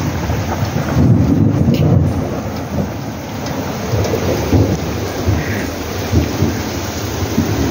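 Heavy rain pours steadily in a village while thunder rumbles and cracks through the downpour, loud and close, with no voices.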